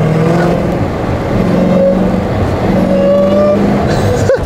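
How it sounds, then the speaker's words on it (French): A Dodge Hellcat's supercharged engine revving, its belt-driven supercharger adding a whine over a loud, continuous close-up engine roar with rising and falling pitch bands. "Un compresseur, ça marche à l'aide d'une courroie qui est entraînée par le moteur. D'où ce sifflement bien caractéristique."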